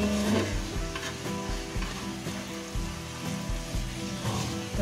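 A jumbo omelette fries in a pan with a steady sizzle, punctuated by repeated scraping and stirring knocks of a utensil against the pan, close-up with no talking.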